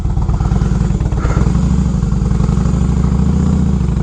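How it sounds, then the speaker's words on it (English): Motorcycle engine running steadily while riding, picked up by a microphone inside the rider's helmet, a loud continuous low drone with constant wind and road rumble and no talk. "you can still hear the motorcycle, which I like hearing the motorcycle"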